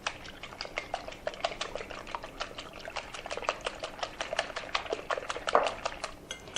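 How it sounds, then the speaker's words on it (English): Eggs are whisked in a mixing bowl for a carrot cake batter, giving a quick, steady run of light rhythmic clicks and taps, close and fairly quiet, with no talking. "I'm going to put my eggs in, and I'm just going to whisk them to break them up"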